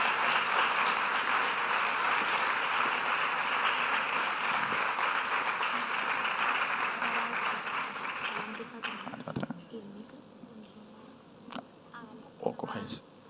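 Audience applause at a cancer awareness event in Coria del Río, loud continuous clapping for about eight seconds that then fades into scattered claps and quiet murmuring voices.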